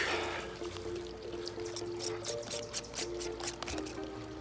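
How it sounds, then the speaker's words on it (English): New liquid pours and drips from a freshly opened container during an automatic irrigation repair, a continuous trickle with splashy patters over a steady low hum and no talking. "Oh yeah, that's the new stuff. It drips, and it'll go on real smooth."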